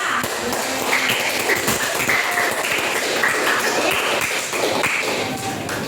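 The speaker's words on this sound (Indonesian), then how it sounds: "tepuk tangan dulu buat kita semua" An eighth-grade class at a Bandar Lampung junior high school claps together, a dense, steady patter of many hands close by that keeps going without a break.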